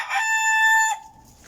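A rooster on a backyard chicken farm crows once, loud and close, a long bright call that cuts off, followed by quiet.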